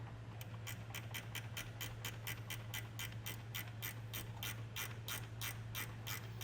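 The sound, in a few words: gear wrench ratcheting nut tight on Jeep wiring ground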